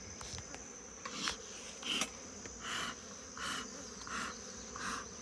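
Honeybees buzz around an opened nuc hive in a steady, close hum that swells into several louder bursts every second or so, with no talking.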